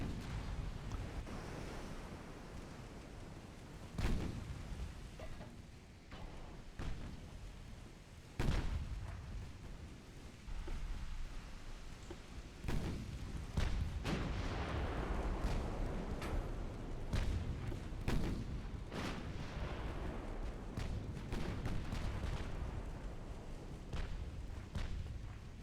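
Warships trade naval gunfire in Ultimate Admiral: Dreadnoughts, Britain against France in 1899, with repeated heavy booms, some near and sharp, others distant, firing irregularly over a constant rumble of sea and wind.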